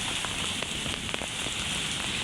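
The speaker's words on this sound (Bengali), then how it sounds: "আমাদের এখানে আজকে বৃষ্টি হচ্ছে" Rain falling steadily during a spell of hot weather, a dense, even hiss of drops on surfaces close by, with faint scattered taps standing out over the wash.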